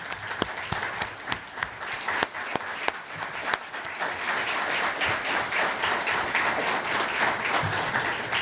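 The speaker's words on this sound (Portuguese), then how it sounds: "Os nossos aplausos." A panel audience at a constitutional law discussion bursts into applause, sharp scattered claps at first that swell into dense, sustained clapping filling the room.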